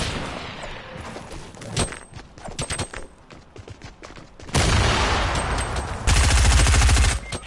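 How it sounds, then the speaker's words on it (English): Gunfire aimed at a player in an online shooter game, rapid cracking shots in uneven clusters, building to loud sustained automatic bursts close by. "Someone's shooting at me."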